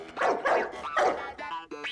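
A Labrador dog barking close by indoors, three loud barks in quick succession followed by a couple of shorter yelping barks.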